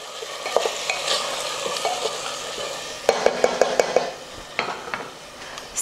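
Tomato puree being mixed in a pressure cooker pot while making peas pulao: a low sizzle broken by a quick run of five or six rhythmic spoon scrapes and clacks against the pot, close and clear, with no voices.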